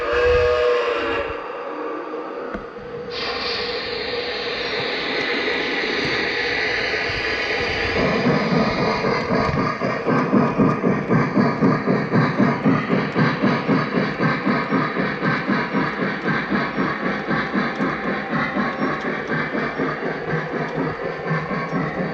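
An RS3 Lackawanna model locomotive running on Fastrack, with a whistle-like electronic horn early on, then a steady motor hum and a fast, regular clicking rhythm of wheels over track joints that continues to the end.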